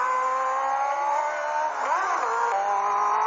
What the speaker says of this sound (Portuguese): Só queria fazer esse vídeo pra mostrar o ronco da CB1000, ó. Tirar de giro.